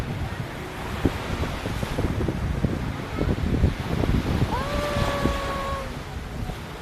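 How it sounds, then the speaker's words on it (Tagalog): Steady ocean surf at Nagtabon beach churns amid gusty wind noise, with brief clattering sounds, and a short horn-like tone sounds late on. "Ganyan ang alo-alon niyo."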